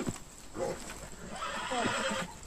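A horse whinnies in the game Red Dead Redemption 2, a close, rising and falling neigh with a few hoof clops, set over a steady outdoor game ambience.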